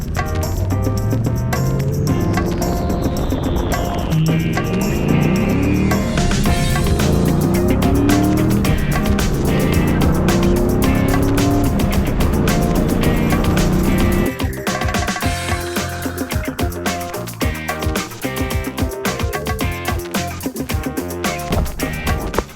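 A 1994-2004 Ford Mustang with a freshly adjusted clutch cable and quadrant being driven, its engine loud and continuous throughout with rising and falling revs through gear changes and steady road noise.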